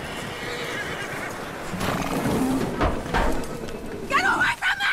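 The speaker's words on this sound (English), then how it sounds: "That looks like a decent horse. You should keep him." A horse in the video game Red Dead Redemption 2 lets out a loud, close whinny near the end, preceded by hoof clip-clop and snorting amid game ambience.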